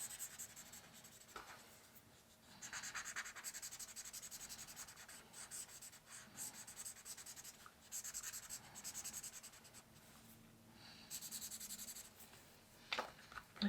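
Pencil shading on paper while drawing an ear: a soft, steady scratching rub that runs almost unbroken, quiet and close, with no talking.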